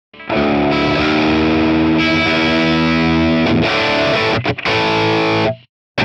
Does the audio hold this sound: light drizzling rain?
no